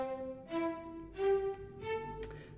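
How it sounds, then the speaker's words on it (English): Cinematic Studio Strings string ensemble playing mezzo staccato notes in Notion, three short bowed notes spaced about half a second apart, soft and close with no voices. "in Notion it's mezzo staccato,"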